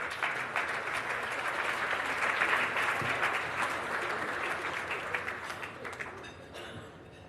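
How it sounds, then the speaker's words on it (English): Sustained audience applause fills a hall at an awards ceremony, steady broadband clapping from many hands that swells slightly mid-way and tapers off near the end. "Give her a round of applause."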